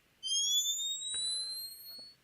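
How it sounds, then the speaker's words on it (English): A video game bomb fuse plays as clean, rising synthetic whistling tones that glide upward together for about two seconds, quiet and alone, with a faint click midway. "This is a bomb fuse."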